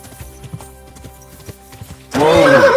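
Horse in the video game Kingdom Come Deliverance 2: soft hoof clip-clops and low shuffling at first, then a loud, close neigh that rises and wavers to the end.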